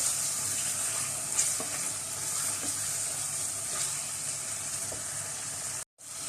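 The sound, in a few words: stirring mutton karahi with dried fenugreek in a pan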